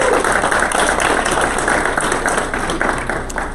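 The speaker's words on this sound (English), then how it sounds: "So let's give him a big round of applause." An audience claps to welcome a guest speaker at a startup seminar, a steady dense wash of applause filling the whole stretch and tapering slightly toward the end.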